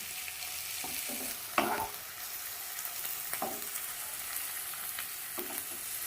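Onion frying in a pan for a Bengali mutton curry, a steady close sizzle with several scraping stirs of a spatula at irregular intervals, no talking.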